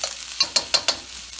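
Spoonful of garlic sautéing in a pan for fried rice, a soft sizzle broken by four quick, sharp scrapes of a utensil stirring it, close and with no voices.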